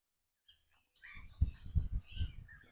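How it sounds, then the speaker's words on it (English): Birds call around a beach bar on an island off Brisbane, with a few thin chirps and then a busier stretch of overlapping calls over a low rumble of background noise. "All these birds around here."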